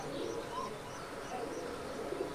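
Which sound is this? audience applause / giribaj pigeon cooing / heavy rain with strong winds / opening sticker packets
giribaj pigeon cooing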